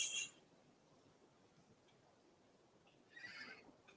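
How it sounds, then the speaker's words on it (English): A horse in the game Dawn of Man neighs in two short bursts, one at the very start and another about three seconds later, both fairly faint over a low ambient background. "The neighing of the horse."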